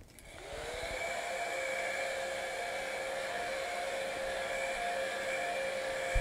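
A hair dryer blows steadily on a freshly made painting, spinning up at the start and then holding an even, loud whine and rush of air throughout, with nobody speaking.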